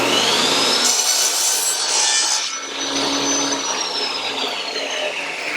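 A table saw cuts through wood, a loud, close, high whining rip that drops briefly midway and then continues with the blade's steady whir.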